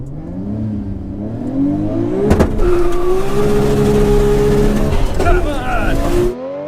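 800 hp Nissan GT-R accelerating hard on a quarter-mile drag run: a loud engine note climbing steadily in pitch through the gears, with brief shift breaks and rushing wind, while people talk over it.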